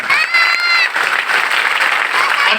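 Audience applause fills the hall, a steady burst of clapping from a seated crowd at a spiritual talk, with a few voices and a whistle-like tone mixed in early on.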